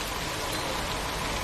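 Steady rain falls as a dense, even hiss across a short stretch, without pauses and without voices.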